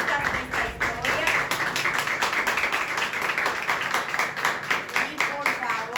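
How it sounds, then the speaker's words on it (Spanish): Audience applause during a church program introducing pastors, rhythmic, distinct claps in a steady pulsing pattern, fairly loud and close, with a voice briefly heard over it. "un fuerte aplauso para los protagonistas de esta historia"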